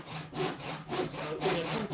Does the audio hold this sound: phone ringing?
no